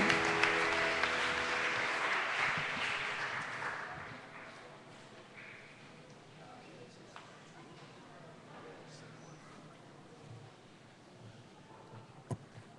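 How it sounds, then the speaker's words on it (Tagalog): A church congregation claps hands together during worship, a loud, dense round of applause that fades out after about four seconds, followed by a quiet room with scattered small knocks and faint voices. "Palakpak po natin ang ating mga kamay."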